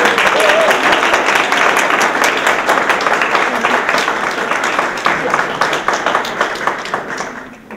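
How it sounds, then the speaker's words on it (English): An audience claps and cheers for a Girl Scout Gold Award recipient at a recognition ceremony, a dense, loud wash of applause that holds steady and then gradually thins toward the end. "we can cheer as loud as we want to"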